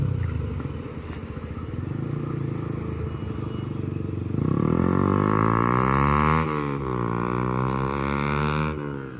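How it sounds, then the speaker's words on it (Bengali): A Yamaha R15 motorcycle riding along, its engine droning steadily and then climbing in pitch as the rider accelerates, loud and close throughout. "এবার আমি বাইক চালাচ্ছি, আর বাইকের সাউন্ডটা তোমরা শোনো একবার"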